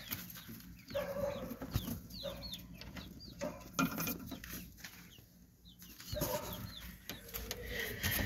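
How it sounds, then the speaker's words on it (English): Hens and chicks in a coop cluck and peep in short scattered bursts over a steady background hum, the calls fairly close and moderate in volume. "There are the hens. I mean, the chicks."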